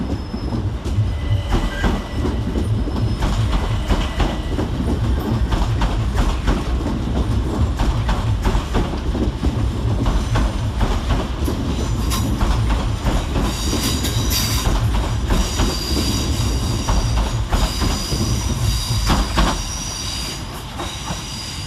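C2C class 357 electric trains departing London Fenchurch Street, a loud continuous rumble of wheels on track with rhythmic clickety-clack and high metallic squeals rising over it, sustained close by throughout.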